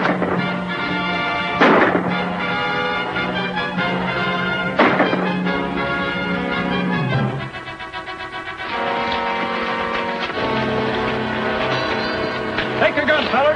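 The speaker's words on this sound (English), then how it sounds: "Aim and fire." Gunfire in a 1940 western film, where a group is ordered to aim and fire: a few sharp, loud shots ring out amid film music and dialogue.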